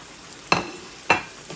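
Chicken pieces sizzle in a pan for chicken jalfrezi with red chili powder, turmeric and salt, with two brief stirring scrapes that flare the frying hiss about half a second apart.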